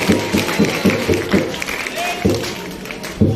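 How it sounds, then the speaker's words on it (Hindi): Audience applause at a farewell poetry event, bursts of clapping rising and falling in rhythmic waves, with a voice and crowd noise underneath. "ठोको ताली।"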